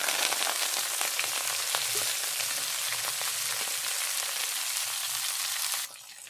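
Bathua greens tossed into hot oil with frying garlic and green chillies, giving a steady close sizzle and crackle that holds evenly, then drops away sharply near the end.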